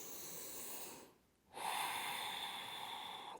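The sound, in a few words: breathing during yoga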